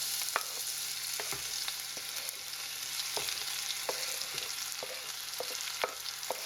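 Onion, garlic and ginger frying in a pan on reduced heat for matar paneer, a steady moderate sizzle with scattered small pops and light stirring clicks, close and with no one speaking.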